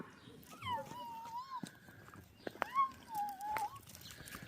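Puppies whimper in a basement, giving long, wavering high whines in two drawn-out bouts with small yelps between them, close by and fairly soft.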